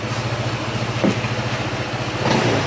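A Honda ADV160 scooter engine idling close by, a steady low throbbing pulse with slight vibration and no speech.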